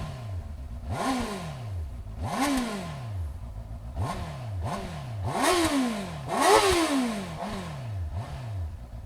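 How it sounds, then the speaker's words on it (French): A stock Honda CB650R motorcycle engine revs repeatedly, six or seven sharp rising blips that each fall back, close and fairly loud with no talk. "Allez, maintenant la CB650R qui malheureusement est d'origine."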